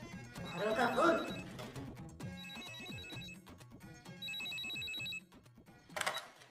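A telephone ringtone chimes in repeated bursts in an indoor drama scene, with a voice speaking over the first ring and music in the background.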